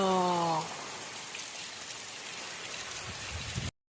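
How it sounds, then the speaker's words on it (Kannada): Heavy monsoon rain in the Malnad hill region pours down in a steady, dense hiss, with a short tonal sound at the very start before the downpour carries on alone. "ಭಯಂಕರವಾದ ಮಳೆಗೆ ಸ್ವಾಗತ ಸುಸ್ವಾಗತ"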